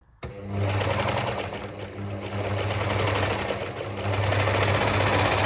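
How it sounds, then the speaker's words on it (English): A serger overlocks a lace seam on a small, slippery camisole piece, a steady loud mechanical whir running continuously after a sudden start, with no talk over it. "Baste first at 5 millimeters, then serge at 7 millimeters."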